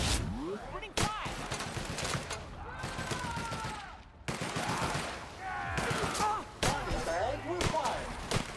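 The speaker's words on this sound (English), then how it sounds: "Opening fire!" Gunfire in The Outer Worlds, a rapid string of sharp shots and impacts with whooshing energy sweeps, close and busy, voices talking in between.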